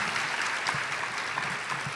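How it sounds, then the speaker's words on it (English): Steady audience applause fills an awards presentation at an arts convention, many hands clapping in a continuous dense wash without pause, moderately loud and close, no talking over it. "Everyone, a big round of applause for them."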